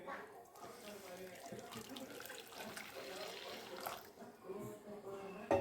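Strained jaggery water pours steadily into a pan, a continuous splashing trickle heard up close with light clinks of utensils.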